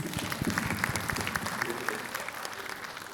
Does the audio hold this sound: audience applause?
yes